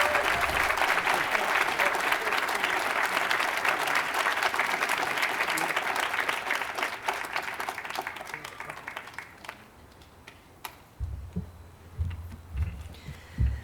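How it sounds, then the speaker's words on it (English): Audience applause at a 2023 high school graduation ceremony after student speeches, sustained, dense clapping that fades after about nine seconds into sparse claps and room noise. "how about another round of applause for those speeches?"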